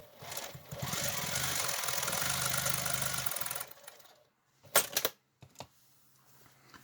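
A sewing machine stitches paper-pieced quilt sections in a steady whirring burst of about three seconds, then stops, followed by a few sharp clicks and handling sounds.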